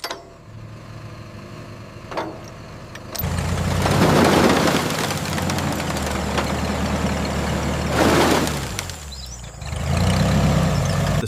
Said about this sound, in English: engage the winch